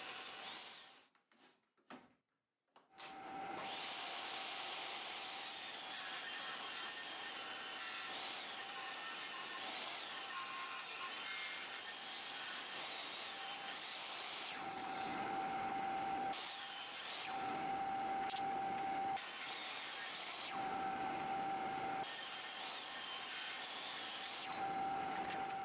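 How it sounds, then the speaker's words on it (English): Table saw ripping 2x4 lumber into strips: a sustained whining blade after a few sharp knocks at the start, with the cut's pitch and loudness shifting in several passes. "On the table saw, I start by ripping off a square edge, then ripping down everything to 1 and an 8"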